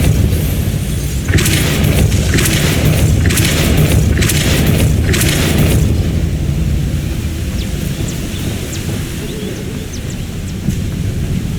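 Depulso, a force-push spell in Hogwarts Legacy, lands as a heavy booming rumble with several bursts of whooshing noise in the first half, settling into a steady low drone.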